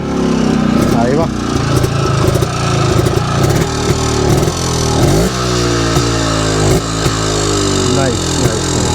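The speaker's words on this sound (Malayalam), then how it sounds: "ഈ SD റോഡ് കിങ്ങിന്റെ സൗണ്ട് നമുക്കൊന്ന് കേട്ട് നോക്കാം" A single-cylinder two-stroke SD Road King motorcycle with dual exhaust is revved repeatedly in a two-stroke workshop, its engine crackling and buzzing loudly and close, rising and falling in pitch through several blips.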